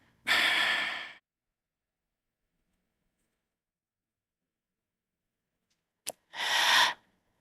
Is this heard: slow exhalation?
yes